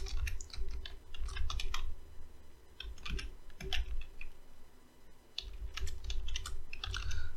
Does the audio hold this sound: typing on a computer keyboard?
yes